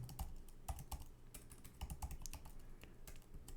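Code typed on a computer keyboard during a programming tutorial, heard as steady, quick, irregular key clicks close to the microphone, fairly quiet, with no talking.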